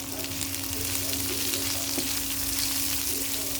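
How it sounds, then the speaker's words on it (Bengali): Onions frying in oil while lentils are fried for a wedding-style moong dal with fish head: a steady, broad sizzle runs throughout at an even level, with no voices. "এগুলো ভাজতে ভাজতে দিয়ে দেবো এক মুঠোর মতো পেঁয়াজ লাগবে"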